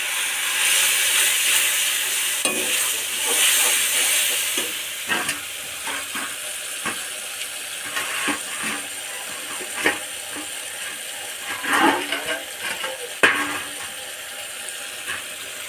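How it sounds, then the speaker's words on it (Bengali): Onion, garlic, chilli and turmeric sizzle in hot oil, a loud hissing fry that settles into quieter crackling with scattered pops and stirring knocks. "নিচে তেল গরম হয়ে গেছে, পেঁয়াজ দিয়ে দেবো, হয়ে গেছে রসুন দিয়ে দেবো, হয়ে গেছে লঙ্কা হলুদটা একসাথে দিয়ে দেবো"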